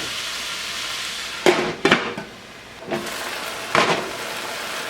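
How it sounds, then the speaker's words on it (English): Beef and garlic fry in a pan for Thai basil beef, giving a steady low sizzle. A few sharp knocks and clanks from a utensil or lid cut through it at close range. "beef is cooking"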